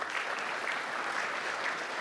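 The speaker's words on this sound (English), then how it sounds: "I think that deserves a round of applause," Audience applause at an ethnic business awards ceremony, a dense, even wash of clapping from a large room that holds steady throughout.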